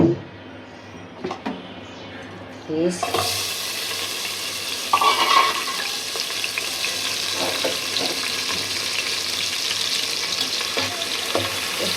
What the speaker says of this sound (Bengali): এই যে মুগ ডাল ভেজে রাখছি